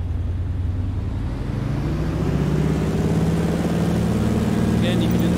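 Steady drone of a DHC-2 Beaver radial engine run up to full takeoff power in Microsoft Flight Simulator, a loud continuous low rumble that rises slightly in pitch and holds.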